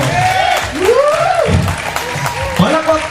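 A crowd at an anniversary award ceremony applauds beneath a loud, close voice speaking over a microphone, the clapping forming a steady bed behind the talk.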